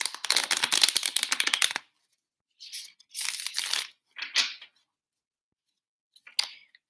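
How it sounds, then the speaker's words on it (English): Tarot cards are shuffled up close in a long riffling burst, then several shorter shuffles with quiet pauses between them. "Let's give it a better shuffle."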